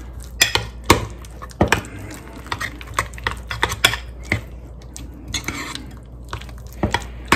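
Shredded cheese is mixed into a casserole in a bowl, with a steady series of sharp clicks and knocks from a utensil against the bowl, irregular and close, with quieter rustling between strikes.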